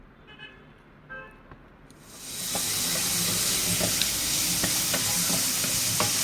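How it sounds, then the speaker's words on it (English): Chopped onion and tomato hit a pan of hot spiced oil for a Goan yellow dal tempering, bursting into a loud, steady sizzle with spatters and stirring after a quieter start of scattered clinks. "Now fry the onions and tomatoes also very well with the rest of the bagar."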